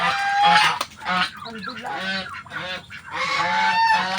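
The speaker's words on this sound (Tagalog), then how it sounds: "Ito na aking mga bibi." Pet ducks or geese on a small home farm honk and call repeatedly at close range. The calls are loud and overlapping, and a voice speaks briefly among them.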